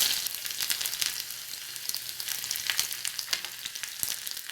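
Onions sizzle in hot coconut oil with mustard seeds and urad dal for a radish sambar tempering, a steady close crackling hiss with scattered sharp pops and no voices.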